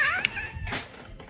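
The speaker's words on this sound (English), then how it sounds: "whose cat is this, bro?" A cat gives a drawn-out, rising meow at the start, then a softer, rougher cry follows. Both are close and clear, with no talking over them.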